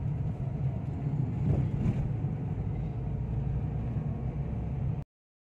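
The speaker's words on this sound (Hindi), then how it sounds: "देखिए कैसे ट्रैफिक लगा है क्योंकि अभी ड्यूटी टाइम होता है ना तो बहुत ज़्यादा गाड़ियाँ निकलती हैं" Heavy morning rush-hour traffic near a toll point, a continuous low rumble of many vehicle engines, steady and moderately loud, cutting off abruptly near the end.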